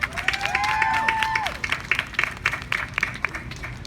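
Applause at an outdoor peace and justice festival. A dense burst of clapping fades into scattered, uneven claps, with a voice calling out over it near the start.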